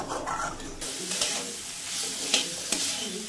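Spice masala for a soybean muithya dish sautéing in a pan, a low steady sizzle with repeated scraping stirs and a couple of sharper clinks of the spoon.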